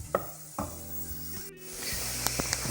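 Onions for a pasta and bean soup fry over too-high heat in a pot with a steady close sizzle, broken by a few scraping stirs and light knocks of a utensil.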